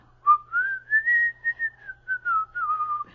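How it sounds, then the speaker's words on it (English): A person whistles a short, wavering tune of connected notes, clear and close in a quiet room, with a faint low hum beneath. "that's about all I can whistle"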